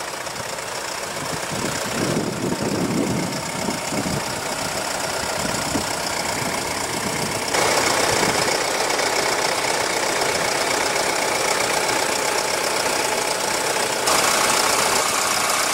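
A 2016 Mercedes E250 with a 2.1-litre twin-turbo four-cylinder diesel running steadily, a continuous clattery idle drone that grows slightly louder partway through, with no talking.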